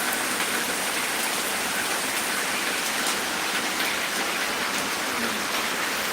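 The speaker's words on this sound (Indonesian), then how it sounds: "Deras sekali, bro, di sini hujan." Heavy rain pours steadily near a fast river in Sicini village, Gowa, a dense continuous hiss with no pauses and no voices.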